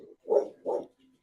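A dog barks twice in quick succession, close and fairly loud, with a soft whine before and after in an otherwise quiet room.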